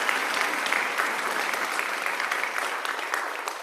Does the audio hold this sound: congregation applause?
yes